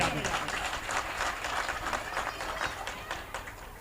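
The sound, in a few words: applause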